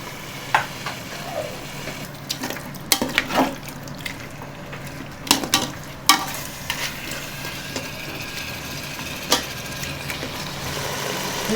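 Ghee poured into chicken biryani curry simmering in a pot, giving a low steady sizzle and bubbling with scattered sharp clinks and stirring knocks, fairly close and alone without talk.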